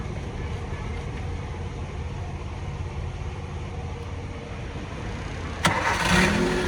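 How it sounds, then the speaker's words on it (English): A van's four-cylinder engine rumbles steadily at idle, then a sharp click is followed by a louder surge as it fires up near the end, recorded close by without talk. "Looks like the van started."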